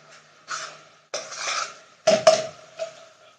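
Spices and cumin stirred in a cooking pan, four short scraping strokes of a utensil against the metal, close and fairly clear, with quiet gaps between them.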